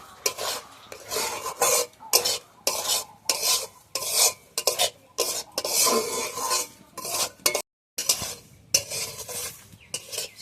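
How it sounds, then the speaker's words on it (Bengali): Semolina fries in ghee while a spoon scrapes and stirs it in the pan, giving a busy, rhythmic run of rasping strokes with short pauses and a faint sizzle underneath. "সুজিটা আমি ভালোভাবে ভেজে নিয়েছি, ঘি দিয়ে ভালোভাবে ভেজে নিয়েছি।"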